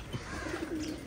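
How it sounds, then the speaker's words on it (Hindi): Soft cooing of pigeons, low murmuring coos in a gentle run, fairly close but quiet, ending in a sudden loud knock or rustle. "अरे कबूतर इतने ज्यादा हो गए हैं,"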